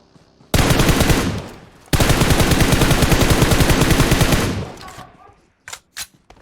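Loud, close automatic gunfire from PUBG Mobile rattles in two long rapid bursts, followed by a few short separate shots.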